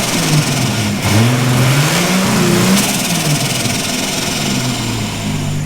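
A rebuilt Nissan Skyline R31 engine at close range, blipped through a few uneven throttle revs that rise and sag before settling into a rough, loud idle.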